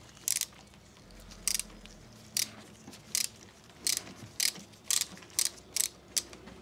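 A Torx T45 driver works the upper pinch bolt on the inverted fork of a Harley-Davidson Low Rider ST, giving a series of sharp metallic ratcheting clicks that come in irregular bursts, close and clear against a quiet workshop background.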